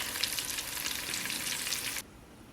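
Cinnamon, cardamom and garlic paste frying in a hot pan for chicken over rice: a loud, steady, close sizzle that runs unbroken for about two seconds and then cuts off abruptly.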